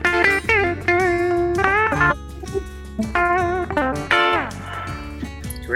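A Telecaster-style electric guitar with a Joe Barden bridge pickup, switched to the high position, plays a lively phrase of plucked notes and bends, slightly driven, close and without talk.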